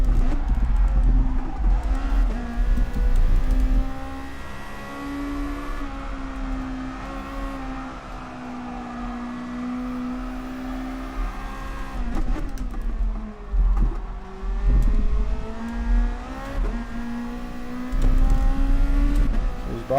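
A race car in GT Sport's daily race with its rear tyres worked hard, heard as a loud, steady engine drone with rising and falling revs, a few gear shifts and tyre scrub throughout.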